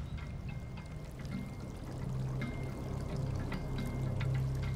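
Water is poured over a scale model of the scablands to mimic a glacial lake flood, a continuous rushing, gurgling pour that grows slightly louder as it goes on.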